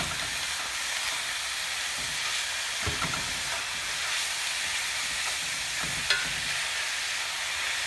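Ground taco meat browns in a cast iron pan with a constant, close, dense sizzle, broken by a couple of soft scrapes from stirring and a faint click.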